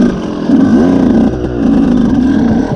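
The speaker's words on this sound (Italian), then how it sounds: "Io mi si accende al contrario la moto." Dirt motorcycle engine on a muddy enduro trail, running loud and close with a steady rough idle that rises into a couple of quick revs, no voices heard.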